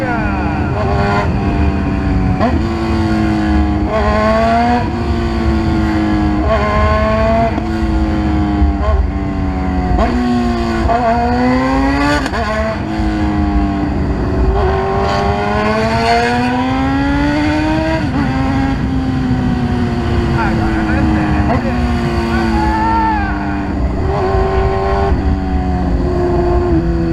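A car engine revs loudly through a city centre, rising and falling in repeated strong throttle sweeps and a close, continuous drone that dominates the scene for nearly half a minute.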